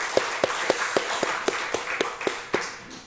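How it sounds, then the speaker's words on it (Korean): A church congregation claps for its children in a slow, even rhythm of about ten claps, moderately close, then the clapping fades out near the end. "우리 귀한 자녀들 위해서 박수 한번 쳤으면 좋겠습니다"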